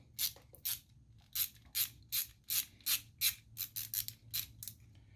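A long screw being backed out of a Harley Davidson foot peg, heard as a close, quiet series of about a dozen rhythmic ratcheting clicks in quick succession, with no talking.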